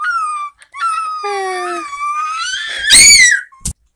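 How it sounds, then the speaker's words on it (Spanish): A scared dog whines and cries in long, high, wavering wails, close and loud, ending in a sharper yelping cry and a brief final yip. "No llores, perro, soy bueno."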